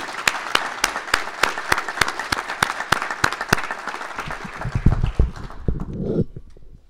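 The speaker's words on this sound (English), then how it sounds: "Let's give these folks a round of applause." An audience at a science internship ceremony claps in sparse, evenly spaced beats that hold for several seconds, then thin out and fade.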